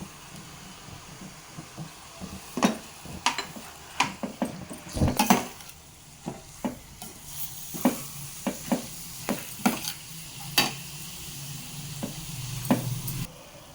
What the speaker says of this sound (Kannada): ಈಗ ತುಪ್ಪದಲ್ಲಿ ಬೂದುಗುಂಬಳಕಾಯಿನ ಚೆನ್ನಾಗಿ ಫ್ರೈ ಮಾಡಿಸ್ಕೊಂಡಿದ್ದೀನಿ